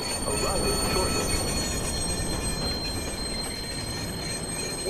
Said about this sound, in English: Westbound train arriving shortly.